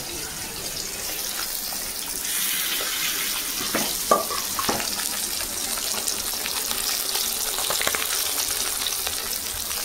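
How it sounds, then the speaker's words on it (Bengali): Fish sizzles steadily in hot oil in a home kitchen, with a constant bright crackle and a few sharp utensil clinks and scrapes near the middle. "মাছ ভাজা হয়ে গেছে, তুলে নেব।"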